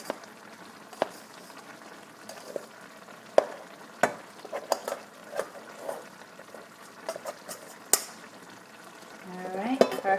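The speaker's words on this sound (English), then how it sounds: "So now I'm just gonna add all of this rice in here." Cooked rice tipped into a hot skillet for an Italian sausage rice dish, heard as a faint sizzle with scattered scrapes and clinks of a utensil against the pan, no voices.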